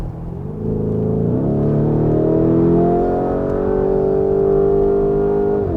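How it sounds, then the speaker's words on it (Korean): A Lamborghini Urus in Corsa mode revs loud and close, climbing in pitch with a rough, aggressive exhaust note, holding high before easing slightly. "엔진음이나 배기음도 즉각적으로 더 신경질적으로 바뀌고요"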